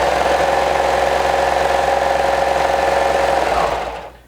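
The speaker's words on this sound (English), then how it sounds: "all steps from today I will be doing them on my serger and my cover stitch" A serger sews a dress seam with a fast, continuous whirring hum that runs steady and close for a few seconds before winding down to a stop.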